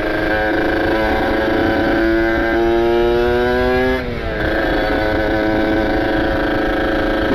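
A ported two-stroke Kawasaki Ninja motorcycle speeds past, its engine whining loud and high, the pitch climbing steadily, then a brief dip at a gear change before it pulls hard again.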